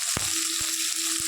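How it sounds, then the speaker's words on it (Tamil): Mustard seeds splutter in hot oil in a pan, a dense steady frying hiss with a few sharp pops, heard close up with no talking. "இது கடுகு தால்சம் ஆகிட்டு இருக்கு"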